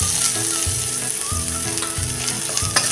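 Potatoes sauté in a hot pan with coriander and turmeric for a yellow potato dish, giving a loud, steady sizzle with rhythmic scraping and stirring strokes throughout.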